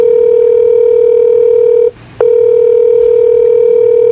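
A loud, steady telephone tone plays while a call is placed, a continuous pure hum broken once by a brief click and short gap before it resumes.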